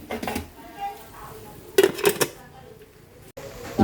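A metal lid clanks down onto a cooking pot of sautéed mussels with Sprite and bacon, a cluster of sharp clatters in the middle amid quiet kitchen background.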